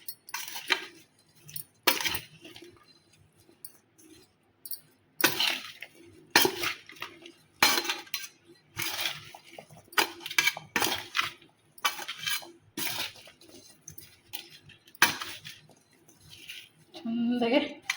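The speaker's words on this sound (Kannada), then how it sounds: "ಈಗೆಲ್ಲನ ಮಿಕ್ಸ್ ಮಾಡ್ಕೊತಾನೆ ನೋಡಿರಿ." Mango pickle is mixed by hand in a bowl, producing repeated close scrapes and clinks with pauses in between, while a voice talks intermittently over the mixing.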